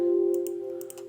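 Mouse click on a computer during a Microsoft Word table-formatting tutorial: a few light, quick clicks over a steady low hum, with no voices.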